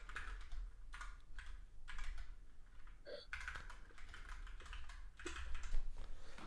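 Rapid, uneven clatter of keys being typed on a computer keyboard, close and fairly quiet, with bursts and brief pauses over a faint room hiss.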